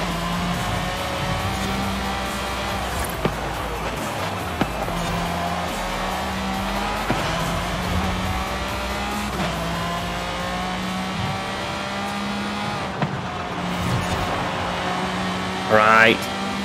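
Pagani Zonda R racing hard through corners in Forza Horizon 5, its engine droning and rising and falling with gear changes, with brief tire squeals and sliding near the end as someone talks over it.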